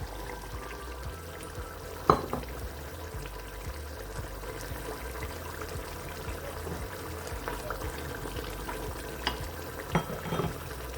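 Peas tipped into a simmering yogurt-based Turkish stew, with a couple of sharp clatters as they drop in, then steady low bubbling and soft stirring scrapes in a pot, close and moderately quiet.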